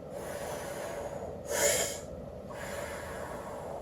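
A quick, sharp breath drawn in through the nose, close and fairly loud, then silence and a softer airy breath, as in a survival floating breathing technique of short inhales and long exhales.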